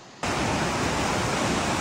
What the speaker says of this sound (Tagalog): Sa lakas ng rumaragas ang kulay tsokolating tubig